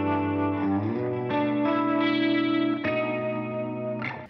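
Sustained guitar chords through a Roland GP-16 multi-effects processor on its third preset mode, swirling chorus and mild distortion, with a few chord changes, played alone and close.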